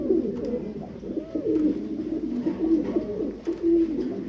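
Fancy pigeons at a pigeon farm coo steadily and close by, their low, rolling calls overlapping in a continuous murmur with small swells in loudness.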